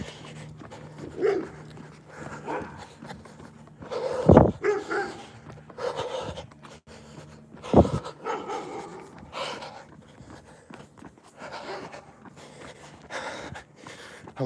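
A dog glimpsed behind a fence barks a couple of sharp, loud times amid panting and snorting, with a runner's footsteps and breathing continuing throughout.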